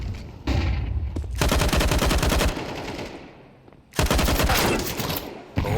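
Rifle gunfire sprayed through smoke in Counter-Strike on the Anubis map, rapid loud automatic bursts in several long strings separated by a brief lull, close and dominant with no talk.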